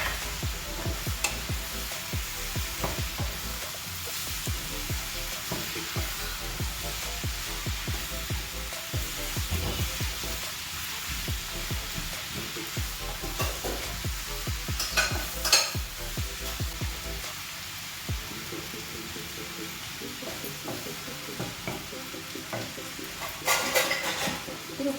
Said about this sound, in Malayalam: ഇളക്കി നോക്കാം.